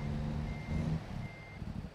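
Reversing beeps from a truck in the driving game American Truck Simulator, a steady electronic beeping under a low engine rumble, close and moderately loud.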